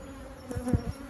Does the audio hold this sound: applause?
no